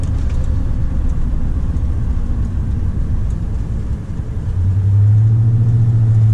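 Steady low engine rumble of a GMC pickup truck driving, continuous road noise throughout, with a deeper drone swelling near the end.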